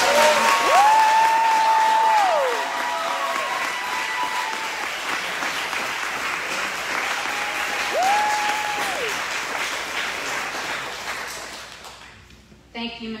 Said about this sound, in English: I want to make sure you hear our thunderous applause again.